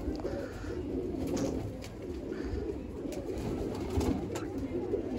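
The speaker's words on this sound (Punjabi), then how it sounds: "ਬਹੁਤ ਚੰਗਾ ਕਬੂਤਰ ਹੈ" Pigeons kept by a fancier coo softly and repeatedly at low volume, with faint rustling and flutters around them.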